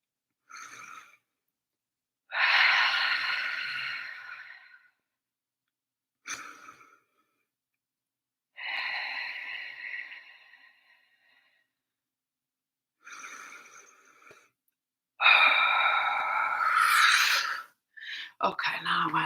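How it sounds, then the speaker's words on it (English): A person takes three slow, deep breaths, each long inhale and exhale close and audible, separated by quiet pauses. "Take 3 deep breaths."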